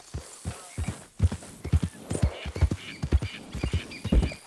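Horse hooves clip-clop at a steady walking rhythm in the video game Red Dead Redemption 2, each close, crisp footfall standing out clearly, with no talk over it.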